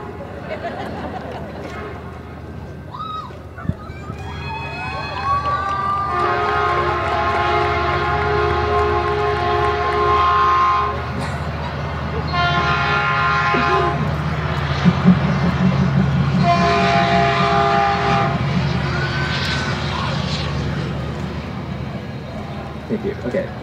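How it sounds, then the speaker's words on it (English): A passing train sounds its horn during an outdoor graduation ceremony, the long sustained horn blasts coming in strong waves over a steady rumbling background. "Like that train."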